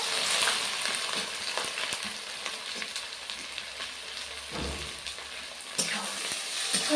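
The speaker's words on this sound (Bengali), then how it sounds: "পেঁয়াজটা লাল করে ভেজে নেব।" Chopped onion fries in a pan with bay leaves, cinnamon, cardamom and cloves for a mutton curry, making a steady moderate sizzle. The occasional light clink of a spatula stirring comes through, with no one talking.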